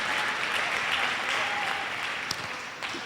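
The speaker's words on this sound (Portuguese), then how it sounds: "E aplauda forte." A church congregation claps loudly and steadily for about three seconds, a dense sustained wash of applause with a few sharper individual claps near the end.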